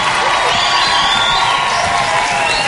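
A studio audience on a television show applauds and cheers for a singer: a dense, continuous wash of clapping and whooping that stays loud and even from start to finish.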